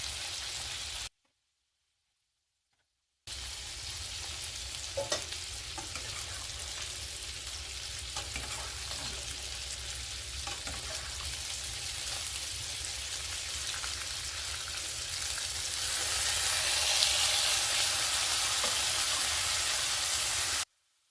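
Meat sizzles in butter or oil in a pan as a pork-chop substitute, a steady crackling hiss with faint pops that grows louder toward the end after a brief silent gap.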